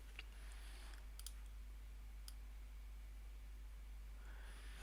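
A few sharp, sparse key clicks on a computer keyboard, including a caps lock press before typing labels, sound faintly over a steady low hum in a quiet room.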